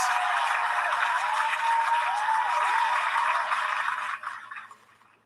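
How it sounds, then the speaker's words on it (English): Sustained applause for a young man praised as a hero, a dense steady wash of clapping that holds loud for about four seconds, then thins and fades out. "Let's give him a round of applause."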